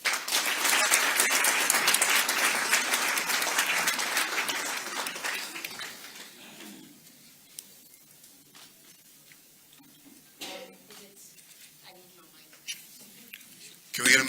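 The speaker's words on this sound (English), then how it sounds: "Please assist me in a big round of applause for Dr. Precious Moloi Motsepe." Loud, dense applause from a crowd at a South African sport minister's announcement fills the first several seconds, then thins and fades to scattered claps and quiet room noise.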